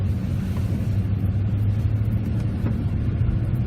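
A Dodge Ram truck drives along with a steady, low engine rumble and road noise, heard from inside the cab, continuous and unbroken, with no talking.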